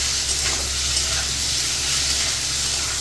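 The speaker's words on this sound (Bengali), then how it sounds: "আলু আর ঝিঙে কষা হচ্ছে মশলায়।" Potato and ridge gourd cook with spices in an oily pan, giving a continuous loud, even sizzle and hiss close by, with no voices and no break for the whole stretch.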